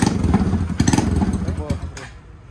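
A motorcycle engine starts and revs up close, its throaty idle rising in a couple of short bursts over about two seconds before dropping away, with voices talking over it.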